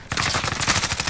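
Rapid bursts of M16 rifle fire in a shooter video game, a dense run of shots repeating steadily through the whole second, loud and close.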